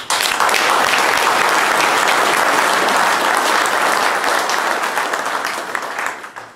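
An audience at a foundation's New Year reception applauds in a thick, continuous burst of clapping that starts at once, holds steady and then tapers off at the close.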